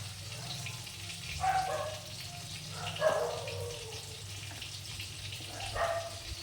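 Water poured into a pan of ground mustard, turmeric and salt for hilsa fish curry, with soft splashy pours in three short bursts over a low steady background hum.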